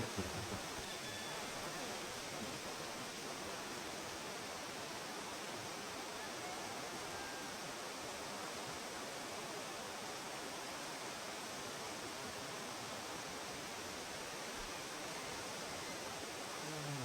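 A constant roaring wash of surf fills the whole stretch, steady and broad with no breaks or voices.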